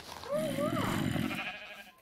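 A Minecraft sheep lets out a single wavering bleat in a game farm, mid-loud and close, with a faint voice and background game noise underneath.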